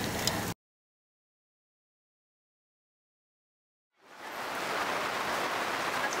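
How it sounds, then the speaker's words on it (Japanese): A sudden heavy downpour at an outdoor food stall in Nishihara village, Kumamoto, starts after a few seconds of silence as a dense, steady hiss of rain that stays loud to the end. "突然の大雨"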